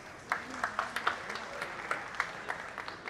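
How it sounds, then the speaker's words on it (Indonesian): An audience at a public talk event claps in scattered, moderate applause, with individual claps standing out through a soft, continuous crowd wash. "Tepuk tangan untuk Desak Anies"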